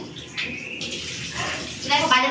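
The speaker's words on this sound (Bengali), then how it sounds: "আমার মাংসগুলো ধুয়ে নিচ্ছি" Meat is rinsed under running water in a kitchen, with a steady splashing stream that grows louder and more agitated toward the end, and a faint voice is heard in the background.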